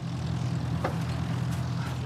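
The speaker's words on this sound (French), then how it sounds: "à bord de son Broussard, un avion de collection." A vintage 1958 Broussard propeller aircraft at Nuits-Saint-Georges aerodrome, its engine giving a steady, loud droning hum that stays constant throughout with no voices.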